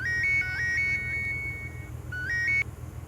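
Phone ringing after a number is dialled, a warbling electronic ringtone repeating in quick trills over a low steady hum, then cutting off abruptly.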